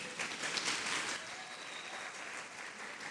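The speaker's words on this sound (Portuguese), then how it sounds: "Pode dar um aplauso a Jesus." Faint, distant applause from a church congregation during a Portuguese-language sermon, a soft continuous wash of clapping that gradually thins out.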